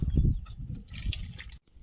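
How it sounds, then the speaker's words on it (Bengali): Bottle gourd curry slides and splashes out of a pan, a soft wet liquid pour with a brief heavier gush at the start and faint trickling dribbles before a short pause. "তরকারিটা ঢেলে নেব"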